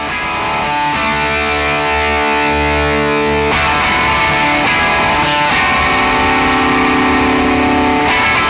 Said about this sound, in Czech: když aktivuju switch Gain, tak se přidá zkreslení a trošičku bottom endu